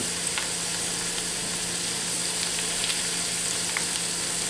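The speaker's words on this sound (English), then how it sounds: "Getting a little browning on these potatoes." Red potatoes brown in a skillet with a steady, even sizzle throughout, close and moderately loud, broken by a few faint crackles and no voices.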